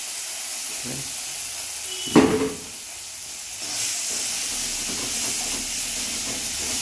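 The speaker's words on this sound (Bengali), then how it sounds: "পুরো গরম তেল, একদম খুব গরম তেলে ছিল, সেই জন্য অল্প ছিটেছে" Rohu fish fat fries in very hot oil with red peanuts, a steady close hiss broken by one sharp spattering burst, then a renewed sizzle.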